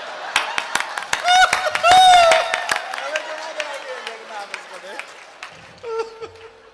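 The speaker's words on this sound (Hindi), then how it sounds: "तालियों के साथ इनका स्वागत करें।" An audience at a Hindi comedy poetry gathering claps in a burst of applause welcoming a poet, strongest in the first couple of seconds and then tapering into scattered claps and laughter with an announcer speaking over it.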